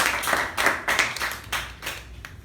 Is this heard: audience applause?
yes